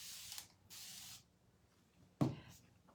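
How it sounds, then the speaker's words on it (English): Spray bottle pumped three times, two quick misting hisses close together and then a sharper third spritz after a short pause, loud and close with quiet between. "let's go ahead and spray this."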